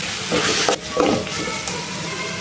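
Scraping strokes of a spoon stirring spices through a sizzling pan, the frying hiss continuous underneath, close and fairly loud.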